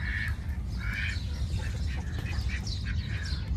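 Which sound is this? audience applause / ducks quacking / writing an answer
ducks quacking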